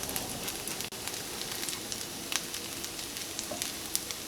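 Milk-soaked bread fries in butter in a pan, a constant soft sizzle with scattered small crackles and pops, close and fairly quiet, with no voices.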